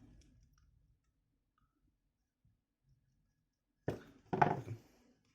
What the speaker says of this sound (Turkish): kablomu timsahın içinden geçirdikten sonra kenardaki kelepçelerini sıkıyorum